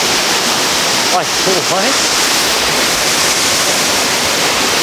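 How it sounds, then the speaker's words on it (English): Waterfall beside a shrine in Aizuwakamatsu, Japan, a steady, loud rush of falling water filling the whole clip, with a brief spoken voice over it near the start. "Really nothing like fresh waterfall air in Japan with shrines around you."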